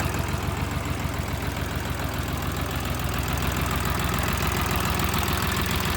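A Dongfeng-254 tractor engine runs steadily while plowing a field at night, a loud close diesel drone with an even rapid knocking pulse throughout and no voices.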